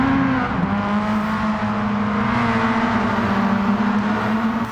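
A race car engine in Gran Turismo 7 holds a loud, steady drone with a sustained tonal whine, running close and even throughout with no talk.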